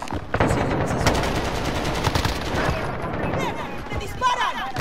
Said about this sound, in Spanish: Me disparan